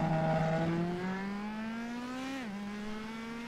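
A Formula CDM race car heads out on track during pre-season testing, its engine whining and climbing steadily in pitch, then dipping sharply at a shift before carrying on. The sound is close and continuous.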